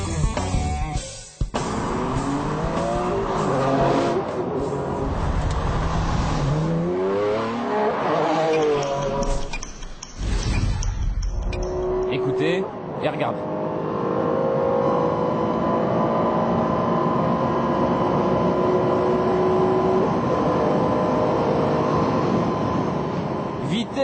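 Maserati MC12 race car driving at speed: a loud engine howls through repeated rising gear pulls with brief dips between shifts, then settles into a sustained high-speed drone while someone speaks French over it.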